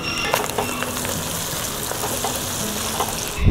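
Pork and other meats sizzle and bubble in a pot for batchoy, a steady close-up hiss with soft crackles and no voices.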